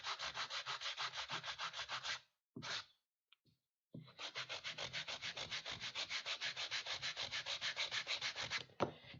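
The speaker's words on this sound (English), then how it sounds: "I'm just using a sanding block" Hand sanding of foam with a sanding block for axe making: quick, rhythmic back-and-forth scraping strokes, close and fairly faint, a brief pause and a few taps midway, then another long even run of strokes.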